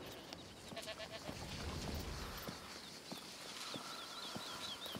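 Goats and other livestock in the video game A Plague Tale: Requiem make quiet farmyard sounds. Faint bleats come over a busy bed of hoof clops and ambient noise, with occasional clicks and knocks.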